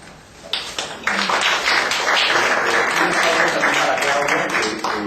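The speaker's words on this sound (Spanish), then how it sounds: "un aplauso" Audience applause at a university talk on abortion debates, broad dense clapping that swells after half a second and holds steady and loud to the end.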